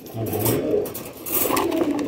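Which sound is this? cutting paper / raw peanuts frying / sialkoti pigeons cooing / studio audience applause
sialkoti pigeons cooing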